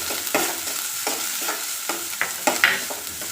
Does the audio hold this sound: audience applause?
no